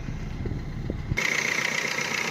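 A 2017 Maruti Swift VDI diesel engine idles after a low, rumbling start, its tone then shifting to a steadier, brighter idle hum that continues near and moderately loud with no talking.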